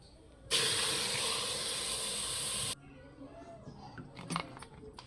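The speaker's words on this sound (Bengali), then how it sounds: "এবার একই বাটি মাপ করে 2 বাটি জল দিয়ে দেবো" Two bowls of water pour into a pot of Gobindobhog rice with bay leaves and cardamom, a loud, steady rushing stream lasting about two seconds, followed by quieter clattering.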